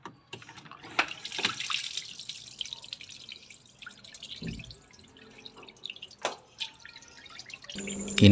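Water drips and trickles from the opened drain of a clogged LG washing machine, quiet and close, with scattered splashes and a louder gush at the end.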